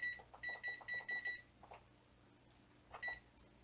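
A kitchen timer beeps in quick rapid bursts, several clustered electronic bleeps at close range, then a pause and another short burst of beeps against a quiet room.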